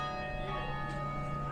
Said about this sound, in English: These bells that you hear are coming from St. Philip's Church, the oldest congregation in Charleston.